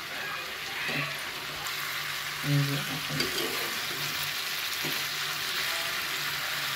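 Shredded cabbage sautéing in a pan with a steady low sizzle, broken by a few short scrapes and clatters as it is stirred, heard close and alone.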